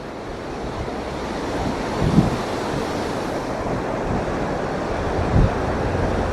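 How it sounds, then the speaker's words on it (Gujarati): Sea waves wash steadily onto a shoreline lined with large boulders, a continuous roar of surf with wind buffeting the microphone and two slightly louder surges of water. "તો અત્યારે આપણે આવી ગયા છે દરિયા કિનારે."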